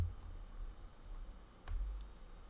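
Computer keyboard keys tapped to enter a username, a few soft scattered clicks with one sharper keystroke, faint and close, no talking.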